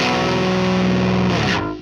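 Distorted electric guitar run through a Mesa Boogie Mark IIC+ amp model with a round, fat cab, a sustained heavy chord ringing loud and alone before cutting off.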